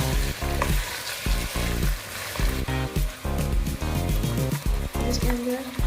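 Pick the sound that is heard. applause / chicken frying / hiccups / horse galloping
chicken frying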